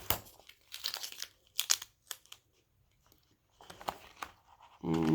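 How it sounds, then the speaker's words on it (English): Tape slowly peeled off paper after a crayon or paint craft, heard as several crinkling, tearing bursts with quiet gaps between them and a louder rustle at the end. "Slowly Take the tape off."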